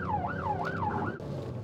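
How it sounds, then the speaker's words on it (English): Wailing police siren sweeps up and down in rapid cycles over engine rumble, close and loud, then cuts off abruptly. "That's why we're going right now with lights and sirens."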